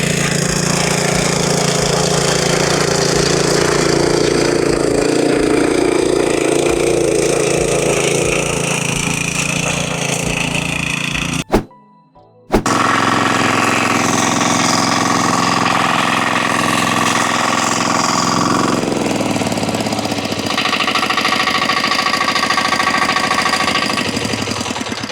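Firman two-wheel tractors with plough implements, models FTL610W-D, FTL900H and FTL820, working a dry field; a loud, continuous diesel engine drone with scraping soil and clatter, briefly cut off midway before resuming steadily.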